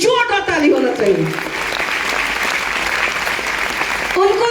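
An audience at a business meeting in Uttar Pradesh breaks into strong, sustained applause that fills the room and stays dense throughout, with a voice speaking at the start and again briefly at the end.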